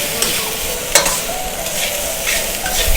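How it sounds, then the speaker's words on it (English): Rice for nasi goreng sizzles and crackles steadily in a hot wok, with a few sharp scrapes of stirring cutting through the constant frying hiss. "you can hear the sizzle"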